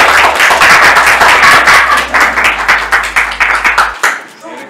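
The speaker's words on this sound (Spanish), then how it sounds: "Un aplauso." Guests at a civil wedding ceremony break into steady applause, dense close clapping that holds strongly and then thins into a few scattered claps before fading out.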